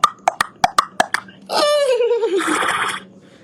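After a quick series of sharp clicks, a person's voice imitates a horse neigh, a wavering whinny trailing off into a breathy snort.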